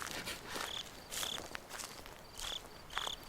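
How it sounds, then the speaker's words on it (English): Cricket chirps from a video game's ambient soundscape repeat in short bursts of insect trilling, faint and fairly distant, with soft rustling and footstep-like noises between them and no talking. "If the crickets get louder, is that bad?"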